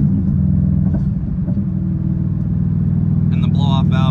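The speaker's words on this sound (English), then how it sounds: "it sounds good. All the fucking turbo flutter," A turbocharged Subaru WRX with a swapped-in 2.5-litre engine drones with a loud, steady low rumble from inside the car, and a burst of high, fluttering chirps near the end could be turbo flutter and blow-off valve release.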